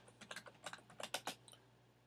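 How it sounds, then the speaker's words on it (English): Quick bursts of typing on a computer keyboard, a short run of about a dozen close, crisp key clicks in an uneven rhythm, with no talking. "I go in here into the text and I type October"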